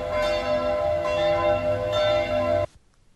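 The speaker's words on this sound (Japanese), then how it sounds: "外から鐘の音が" A church bell in Montreux, Switzerland, heard at night from a hotel room, rings with a rich, sustained tone and lingering hum, then cuts off abruptly near the end.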